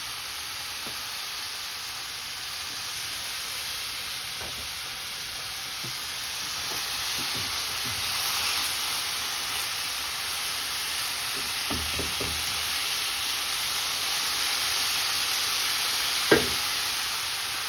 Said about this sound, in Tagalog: Lulutuin na natin siya sa kawali hanggang mag-brown.